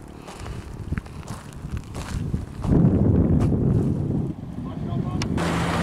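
Wind gusts buffet the microphone during a motorbike tour on a hot day along a mountain road between Chilas and Jaglot, a rough rumbling roar that swells midway, with someone talking.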